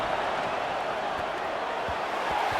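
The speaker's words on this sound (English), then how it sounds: "And here comes the noise. This crowd is trying to inspire this defense to make a big red zone stop." A football stadium crowd at a Delaware versus Louisville game roars as the defense tries for a red zone stop, a dense, steady wash of distant cheering and noise filling the whole stretch.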